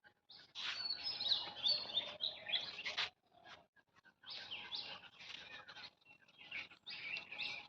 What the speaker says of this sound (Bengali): খুবই ভালো লাগে সকাল সকাল ঘুম থেকে উঠলে পাখির কিচিমিচি শব্দ খুব ভালো লাগে